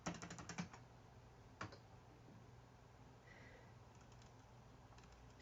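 A burst of keystrokes on a computer keyboard, quiet and close, followed by a single tap after a pause and then near silence.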